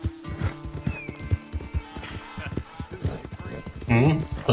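A horse in Red Dead Redemption 2 gallops with rapid rhythmic hoofbeats and lets out a whinny near the end, loud and close, while someone talks over it.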